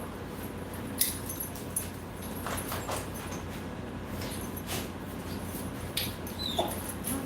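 Recently fed puppies whimper and yip softly against steady background noise. A few sharp knocks and clicks break in now and then, and there is no talking.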